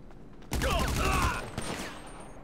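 Gunfire in GTA 5, a single close burst of shots starting abruptly and fading over about a second, with no talk.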